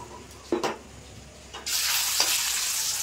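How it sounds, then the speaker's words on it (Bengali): Pieces of a large boal fish slide into hot oil after a couple of clanks, and a loud, steady sizzle erupts and holds close up to the end. "এবার এই তেলের ভিতর মাছগুলো ভেজে নেব। তো আমি মাছ দিয়ে দেবো।"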